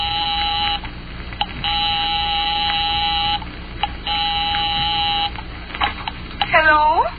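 In a 1946 radio drama, an apartment house phone buzzes in long repeated electric bursts separated by short pauses, loud and steady, ending with a handset click and a brief warbling tone.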